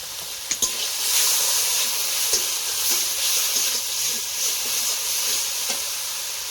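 Turmeric and Kashmiri chili frying in a pan during outdoor cooking on a rainy day: a steady bright hiss and sizzle with a few light clicks and taps from stirring, even and unbroken, no voices.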